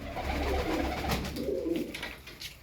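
Pigeons coo repeatedly in a loft holding thirteen birds, a soft low throaty murmur running throughout, fairly close, with no talking.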